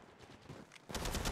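Rapid automatic gunfire in the mobile battle royale game Apex Legends Mobile, a quiet burst of shots that grows louder and denser in the last half-second.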